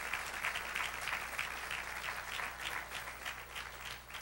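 A church congregation applauds the Lord with sustained, even clapping from a large crowd, steady and moderately loud for several seconds with no voices on top.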